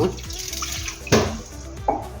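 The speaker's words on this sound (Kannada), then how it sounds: "ಮತ್ತೊಂದು ಸ್ವಲ್ಪ ನೀರು ಹಾಕ್ತಾ ಇದ್ದೇನೆ" Water splashes and trickles into a bowl with rock salt in short bursts, with a few clinks and a louder splash midway, close by.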